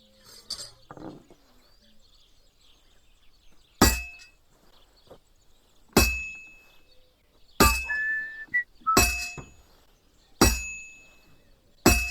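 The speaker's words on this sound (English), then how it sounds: "Now try forging it on both sides." A sword blade is hammered at a forge in the Kingdom Come: Deliverance II video game. Sharp metallic strikes ring out one at a time at irregular intervals of a second or two, each leaving a brief bright ring.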